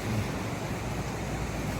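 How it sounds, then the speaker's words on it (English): Ocean waves on the shore at Sabang, Palawan, a steady broad wash of surf with some wind, continuous and fairly loud with no voices. "The waves are very soothing at night. You can hear them even in the room in the house, because they're fairly loud."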